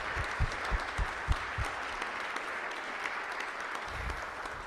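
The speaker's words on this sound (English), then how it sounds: "can we give them all another round of applause?" Audience applause at a national conference, a broad roar of clapping heard from across the room, with a few heavy low thumps near the mic early on, then steady clapping to the end.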